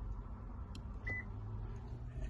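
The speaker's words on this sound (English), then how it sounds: "And I got the beep." An Advanced Diagnostics Smart Pro tool gives a single short, faint beep while a proximity key is programmed for a 2023 Subaru Forester, set against a constant low hum.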